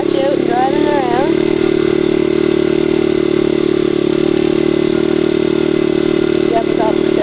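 A motorcycle engine pulls steadily in first gear, a loud, even drone with a strong mid hum, heard up close as a voice talks over it at the start and end.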